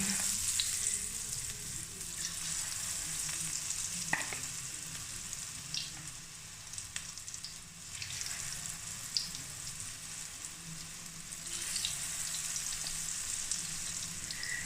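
Potato pakoras frying in hot oil, a steady bright sizzle and crackle throughout with occasional soft clinks and stirring knocks, close by and moderately quiet.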